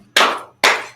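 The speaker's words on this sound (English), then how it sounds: "Clap your hands." Two sharp, close claps about half a second apart, each with a quick attack and a short fading tail, sound alone with no talk.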